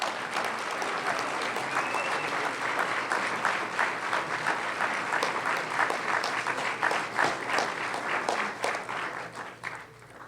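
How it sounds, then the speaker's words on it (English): Applause from an audience at a swearing-in ceremony for new commissioners, a sustained steady clapping that fills the room for about ten seconds before easing off slightly at the end. "Give them a big round of applause."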